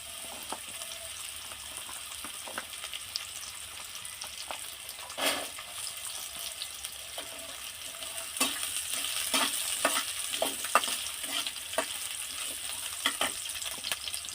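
Chopped carrots sizzle steadily in a hot pan while a spoon stirs and scrapes through them, giving a continuous frying hiss broken by soft clinks and taps, close by and without talk.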